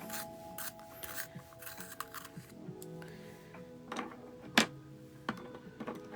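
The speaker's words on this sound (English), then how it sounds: "Doing a little sharpie sharpen." A colored pencil is turned in a sharpener, giving a soft, gritty grinding with light clicks and rubs in uneven bursts, close and faint.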